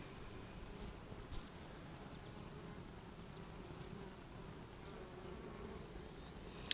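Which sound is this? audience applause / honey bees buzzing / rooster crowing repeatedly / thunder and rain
honey bees buzzing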